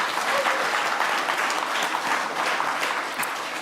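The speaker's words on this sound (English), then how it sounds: "Let's give everybody one more round of applause." An audience at a school spring concert and awards night gives a dense, continuous round of applause that holds steady and fades slightly at the end.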